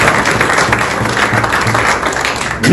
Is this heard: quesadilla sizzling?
no